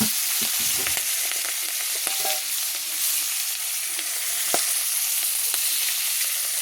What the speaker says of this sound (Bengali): এবার চিংড়া মাছগুলোকে আমি ছেড়ে দিচ্ছি।